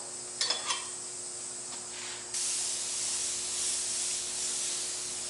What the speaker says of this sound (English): just put a light dust coat over that also